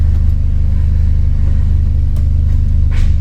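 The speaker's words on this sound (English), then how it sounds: "The moment I take my foot off the clutch, we still have that rumbling noise." A car in reverse gear idles with the clutch released, giving a loud, steady low rumble close by, unbroken throughout, with a faint rattle near the end.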